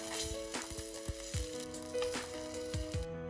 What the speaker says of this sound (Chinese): 油热过后加入准备好的鲫鱼进行煎制，用鱼不动锅动的手法将鲫鱼煎至通体金黄